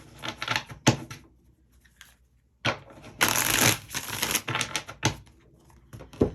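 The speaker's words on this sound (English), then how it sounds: "I'm going to go ahead and give these tarot cards a quick shuffle." A deck of tarot cards shuffled briskly up close, a few quick riffling bursts separated by short pauses, with soft handling noises.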